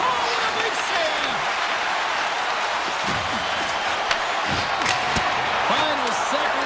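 Broadcast-style crowd roar from an eHockey video game arena in the final seconds of a Western and Eastern Conference match, a dense, steady wall of cheering with sharp slams and thuds cutting through and voices mixed in.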